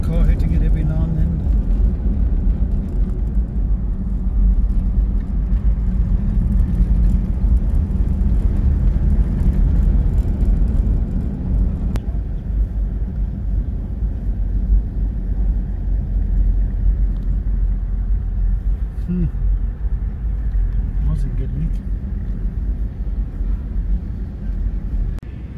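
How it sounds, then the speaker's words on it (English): A steady low rumble of traffic on the Sani Pass mountain road in Lesotho, with occasional cars passing at a distance, heard continuously under outdoor ambience. "Odd car hitting it every now and then."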